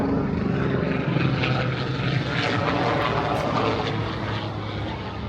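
Sikorsky helicopter passing right overhead above Avenue V in Brooklyn, a constant loud rumbling drone that holds steady for several seconds and eases slightly at the end, with no talking.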